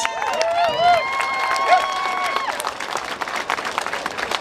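Pride crowd gathered outdoors at Stuart Park in Kelowna, applauding and cheering in a sustained, moderately loud burst, with a few voices rising above the clapping.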